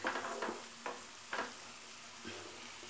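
Sesame seeds fry in oil for an onion gojju, giving a soft, steady sizzle broken by several short scraping strokes of stirring at close range, with no voices.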